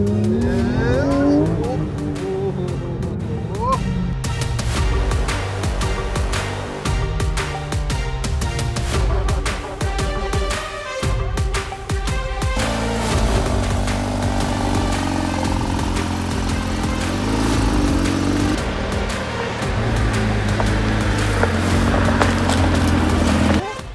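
Porsche 911 GT3 RS sports car with its engine running loud and steady throughout, the note rising and falling as it revs, with some background voices.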